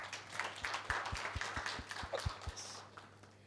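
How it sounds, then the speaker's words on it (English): A small audience at a LinkedIn networking talk in Thane gives a short, quiet round of applause, a few hands clapping in a loose, fairly regular rhythm before trailing off. "Round of applause."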